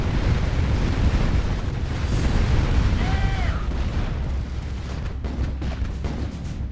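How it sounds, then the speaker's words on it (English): A building blows up in a video game battle, a loud sustained rumbling blast with crackling debris that slowly fades, and a short whistling tone cuts through partway. "Our building is destroyed."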